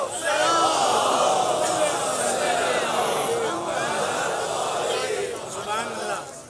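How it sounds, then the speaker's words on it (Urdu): A large crowd recites salawat together loudly in unison at a Muharram majlis, a sustained wall of voices with rising and falling phrases. "بلند تر صلوات پڑھیں"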